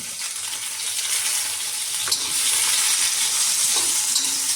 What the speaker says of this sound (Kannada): ಈರುಳ್ಳಿ ಹುರಿಯೋಣ.